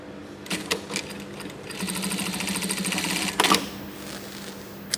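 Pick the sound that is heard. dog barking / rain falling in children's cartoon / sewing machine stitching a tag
sewing machine stitching a tag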